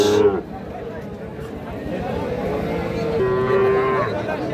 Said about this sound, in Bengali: এইটা কিন্তু একটা বকনা বাছুর।